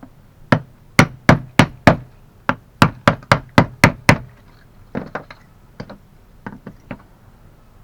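A small hammer taps on the wooden handle of a Kendo wire brush in quick crisp strikes, first a fast run of loud sharp knocks, then lighter scattered taps close by.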